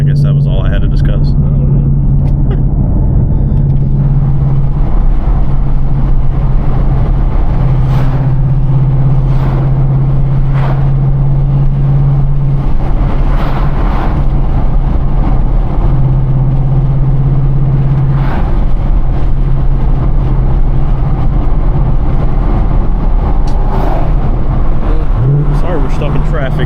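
A Ford Mustang engine idles in traffic, a loud, steady low rumble heard close from inside the car, with faint noise from nearby traffic.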